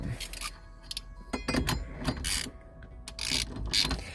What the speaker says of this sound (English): And then you just get the nut, put that back on, tighten it up.